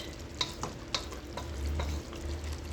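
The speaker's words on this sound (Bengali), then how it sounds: "আলু বুখেরা দিয়ে এটাকে একটু মিশিয়ে নিলাম" A spoon stirs chicken rezala with aloo bukhara in a pan, making soft, quiet scraping strokes at an uneven pace over a faint sizzle.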